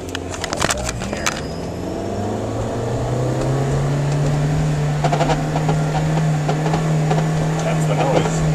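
Strange mechanical noise from the axle seal area of a 1999 Honda CR-V while revving near 5,000 RPM: a steady, rising engine drone with a sustained whine building over several seconds, fairly close, with brief clatter and a voice near the start.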